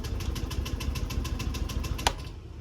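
A Honda Beat FI scooter engine with a faulty replacement fuel pump motor runs with a low, rapid, pulsing putter, steady and close, with a short sharp knock near the end before it fades.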